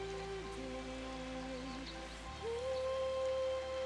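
Rain falls in the game Final Fantasy XIII as a steady soft patter under sustained tonal music, evenly spread and moderately quiet, with no voices.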